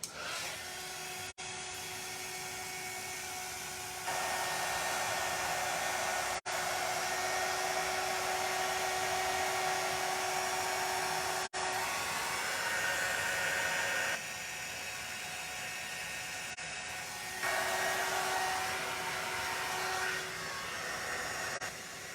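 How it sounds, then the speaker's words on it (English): A heat gun blows on a glitter tumbler, a loud steady airy whoosh running continuously, switching between two power levels several times with brief clicks at each change. "Grab your heat gun back out and let's get it going."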